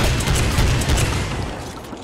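Full-auto shotgun fire in the shooter Ghost Recon Phantoms, a dense, continuous volley of heavy booming blasts that runs together without pause before tapering off.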